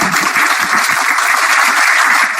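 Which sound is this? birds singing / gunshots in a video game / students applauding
students applauding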